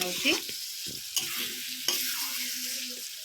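Masala spices frying and being stirred in a pan for a mushroom curry, a steady close sizzle with scraping stir strokes and a few sharp clinks, no talking.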